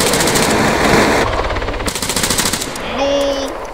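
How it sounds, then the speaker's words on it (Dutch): Rapid automatic gunfire in the video game Arma 3, aimed at a helicopter pilot: loud bursts of machine-gun shots in quick rhythmic strings, a pause between bursts, then a short electronic tone at the end. "Schiet ik hem bij die chopper uit!"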